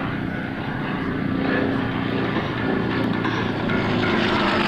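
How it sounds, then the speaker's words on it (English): A propeller aerobatic airplane flies at an airshow, its engine drone loud and continuous as it performs banking climbs and rolls close overhead, with no talking. "a banking climb, rolling this airplane hard to the left"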